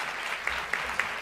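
Audience applause at a faculty acknowledgment ceremony, a steady wash of clapping from a seated crowd with a few sharper claps standing out, with no talk over it.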